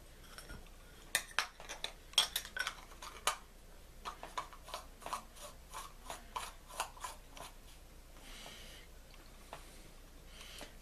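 Small metal parts and screws clicking and scraping as the cover is refitted on a Johnson Citation fishing reel, a soft, close run of irregular light ticks and rasps with no talking.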